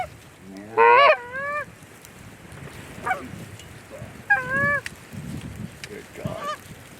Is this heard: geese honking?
yes